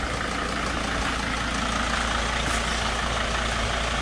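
A T1N Sprinter van's engine runs steadily at about 2,000 RPM, a constant close mechanical drone with no change in pitch or level throughout.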